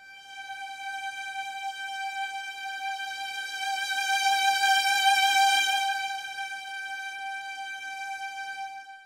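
Soundpaint Adastra Ensemble Strings sample library plays one sustained string note, moving from non-vibrato to vibrato, swelling gently in the middle and fading slightly toward the end, alone and quiet.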